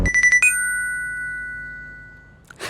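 A phone rings with a quick burst of four or five electronic beeps, then one tone that slowly fades, followed by a faint rustle.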